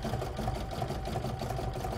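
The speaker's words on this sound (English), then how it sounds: "stitch round number five, which is the zigzagging of the raw edges." A home sewing machine runs a zigzag stitch around the raw edges of a fabric mug rug, a steady, close, rhythmic mechanical whirr with regular needle pulses throughout, no voices.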